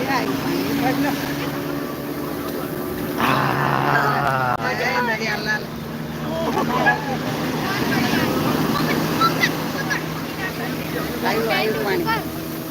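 Sea waves wash in around the feet near a railing by the shore, a broad churning surge with strong wind noise, while people talk and shout over it.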